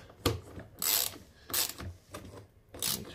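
A ratchet tightens a door bolt on an Infiniti G37 sedan in four close, raspy clicking bursts with short pauses between strokes, heard alone without talk.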